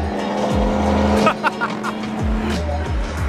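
A loud BMW M2 with an N55 engine roars past up close, engine pitch sweeping through shifts with some tire noise, while people talk over it.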